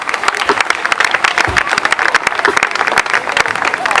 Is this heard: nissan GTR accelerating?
no